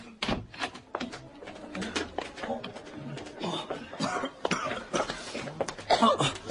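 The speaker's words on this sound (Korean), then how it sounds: "그래서 저도 자꾸 기침이 나요" Repeated coughing close by, several sharp bursts scattered over a few seconds, mixed with throat clearing and murmuring voices in an office.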